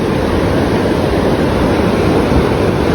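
Water at Tagbungan Falls in Puerto Galera thunders down in a strong, constant roar, loud and close, filling everything with dense rushing noise and no voices.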